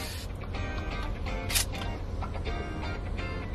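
A Nikon F-mount film SLR camera whirs and clicks as its slow autofocus motor hunts in dim light, with a brief sharper burst of mechanical noise midway, close up and alone.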